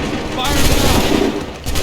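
Musket volley gunfire from Assassin's Creed 3 erupts as a dense, loud crackling burst of overlapping shots, with a shouted voice over the battle noise.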